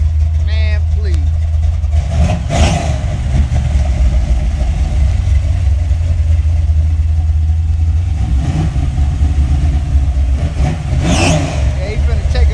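An LS-swapped car engine holds a steady, throaty rumble with a few brief revs, heard close up beneath ongoing talk.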